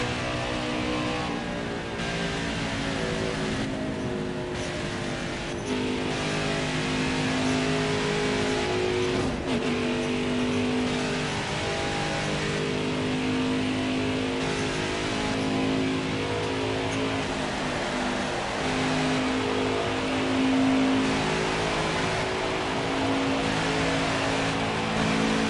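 NASCAR Craftsman Truck Series race trucks roar around Daytona International Speedway in the NextEra Energy 250, a steady, loud pack of engines droning and shifting pitch continuously for the whole stretch with no talk.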